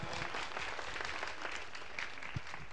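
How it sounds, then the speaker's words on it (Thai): Soft, steady applause from a church congregation, a brief round of clapping heard at moderate distance with no talk over it. "ขอเสียงปรบมือให้กับอาจารย์ด้วยครับ"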